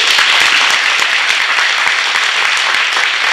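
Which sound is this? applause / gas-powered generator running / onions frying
applause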